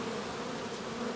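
Dense, steady buzzing of a honey bee swarm issuing, with bees clustered close on a hand, a continuous loud drone with no pauses.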